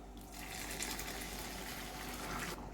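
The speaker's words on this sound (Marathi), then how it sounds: "त्यामध्ये आपण गरम पाणी ओतणार आहे." Hot water is poured into a pav bhaji mixture, making a soft, steady gushing pour that lasts a couple of seconds and stops abruptly, faint and with no talk.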